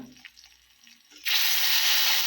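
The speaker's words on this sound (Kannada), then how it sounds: "ಇವಾಗ ಹಾಲು ಹಾಕ್ಕೊಳ್ಳೋಣ." Milk is poured into semolina for pineapple kesari bath, starting as a loud, steady splashing rush partway through after a few quiet kitchen clatters.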